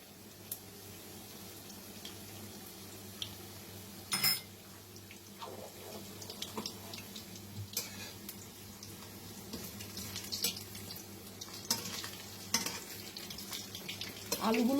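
Potatoes and mutton frying in a mix of ghee and mustard oil for a Bengali-style curry, a low, steady sizzle broken by sharp clatters and scrapes of utensils, fairly quiet, with no one talking.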